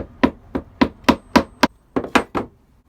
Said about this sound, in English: I'm just gonna hammer it in.